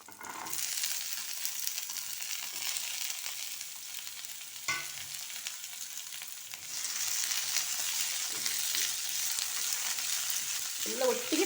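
Sweet pumpkin peel fries in a pan, a soft continuous hiss and sizzle that swells after a brief stir partway through, with light scraping near the end and no talking.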